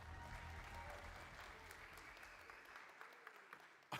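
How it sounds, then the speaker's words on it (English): Audience applause for a presenter at the official launch of the BYD Atto 2 car, a dense crowd clapping that holds steady and then thins toward the end, with a few louder claps near the close. "Another round of applause, please, for Mark."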